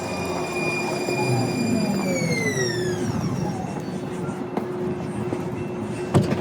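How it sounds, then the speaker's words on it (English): A Blue Line light-rail train pulls into a station, its descending whine and rumble steady and close, with a brief clatter and a sharp knock near the end. "the train is here for us, the one we're going to."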